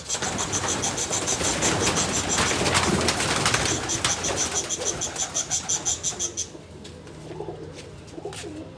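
Pigeons coo close by in a rhythmic series of soft throaty calls, with the cooing pulsing steadily for several seconds before fading, over a faint background hum.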